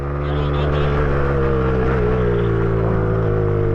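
Small pit bike engine revving hard in low gear while climbing a hill, a loud, steady droning whine that holds close throughout with no break.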